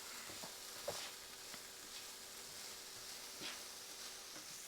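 Garlic, onion and chili peppers with salt and pepper frying in a pan, a steady soft sizzle with occasional scrapes and knocks of stirring.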